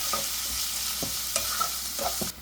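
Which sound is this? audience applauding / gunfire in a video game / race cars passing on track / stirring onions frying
stirring onions frying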